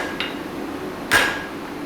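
Blacksmith's hammer strikes hot steel on an anvil during a set down: two sharp metallic blows, the second louder with a ringing tail, amid quiet forge-shop background.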